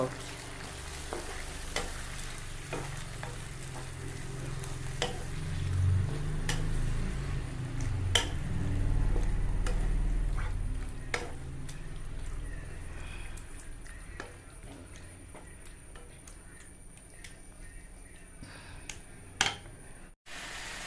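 Squid frying in a hot pan with chilli masala, giving a steady loud sizzle and crackle throughout, with occasional scraping and stirring taps and no talk.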